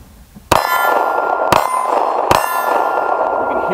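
Three sharp metallic clangs of pistol bullets striking a steel target, each followed by a bright ringing resonance that hangs in the air, spaced about a second apart and loud.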